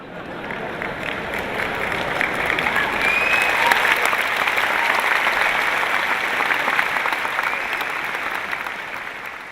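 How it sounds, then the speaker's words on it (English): A large audience at a seminar claps in sustained, dense applause that swells slightly and holds steady throughout, a continuous wash of hand claps with no speech over it. "The sons are clapping"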